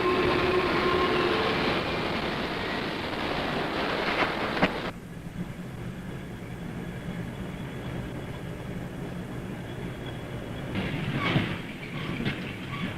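A fully fitted freight train running on the railway, a steady broadband rumble with wheel and wagon noise that rises briefly, drops to a quieter roll, then swells again; no voices.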